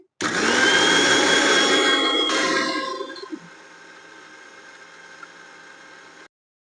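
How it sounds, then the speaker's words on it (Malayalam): A mixer grinder (mixie) blending egg for a homemade protein hair pack: a loud, steady whirring drone for about three seconds that then drops to a quieter, lighter spin before cutting off. "മിക്സിയിലിടാൻ പോവാണ്"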